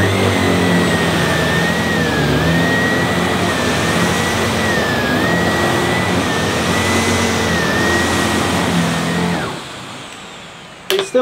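A Sebo K3 Premium upright vacuum cleaner runs on setting two with a loud, steady motor whine and airflow roar that wavers slightly, then shuts off near the end, leaving a brief quiet with a couple of small knocks.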